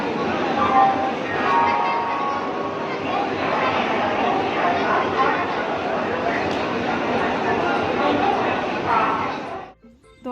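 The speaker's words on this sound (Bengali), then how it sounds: "এই যে দেখতেই পাচ্ছ পুরো নতুন ট্রেনটা" A new Vande Bharat train stands at a station, giving off a steady, loud broadband rumble. Continuous crowd chatter and occasional metallic clinks run under it until the noise drops away at the end.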